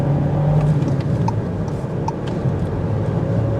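A 2023 Volkswagen Jetta Sport accelerates gently with a steady engine hum and road noise from inside the cabin, moderate and even, with no talking.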